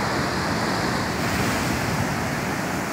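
Ocean surf breaks in a steady, loud wash of waves along the shore, with wind buffeting the microphone throughout.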